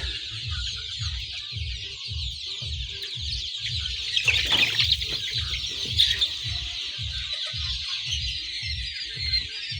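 A crowded indoor coop of about 500 chicks, some over a month old, with adult chickens, peeping in a dense high chorus over steady low rhythmic clucking and occasional wing flutters.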